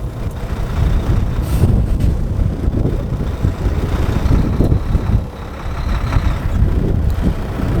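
A semi truck idles as the tractor is gently pulled against its parking brake during a pre-trip air brake check, with a steady low rumble, some wind buffeting and no voices.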